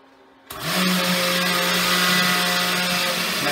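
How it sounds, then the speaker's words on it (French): A blender whirs into life and runs at high speed mixing cream, a loud steady motor drone that starts abruptly and holds without pause. "On mélange à haute vitesse jusqu'à temps que le tout soit bien mélangé."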